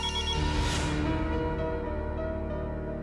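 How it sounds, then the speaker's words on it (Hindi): A mobile phone ringtone plays steadily for about three seconds, a sustained melodic tone sounding alone at moderate loudness with no voices over it. "मैं अंजलि मेहता का फोन स्विच ऑफ करना ही भूल गई"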